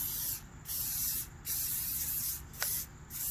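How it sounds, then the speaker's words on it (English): Cooking spray hissing onto a heated grill grate before sausages and eggs are cooked, in several short bursts of close, bright spray separated by brief pauses. "Let's just go ahead and give her a quick spray."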